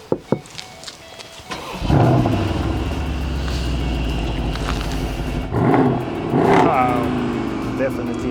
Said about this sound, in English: This is a typical AMG V8 sound.